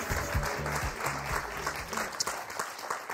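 A French game show studio audience applauds the arriving host Thierry Beccaro on Motus, with steady, dense clapping throughout and a low musical bed underneath.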